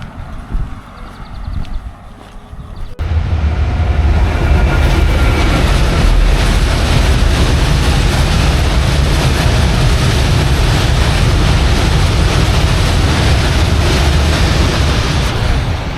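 A loud, continuous rumble and clatter of a train rolling past close by, starting abruptly after a few quieter seconds and holding steady to the end.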